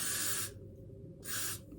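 Two bursts of aerosol spray hiss from a can misted onto hair while doing makeup, each about half a second long, close and loud, separated by a short quiet gap.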